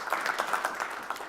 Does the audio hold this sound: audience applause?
yes